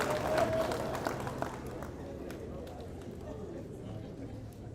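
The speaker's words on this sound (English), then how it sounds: "Please clap for him as he goes to say." An audience at a music festival workshop in Kenya claps, the scattered applause mixing with crowd chatter and fading slightly as it continues.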